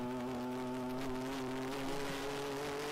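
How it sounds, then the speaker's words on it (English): A loud race car on the Sebring circuit during a 14-hour ChampCar endurance race, its engine holding a steady, sustained drone at a distance with no clear pass-by swell and no voices. "And that is a loud race car."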